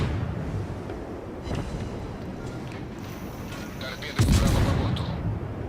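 Naval cannon fire from an Ognevoi destroyer in World of Warships, a muffled game battle with distant booms and one louder blast partway through, over a steady rumble, with a voice talking.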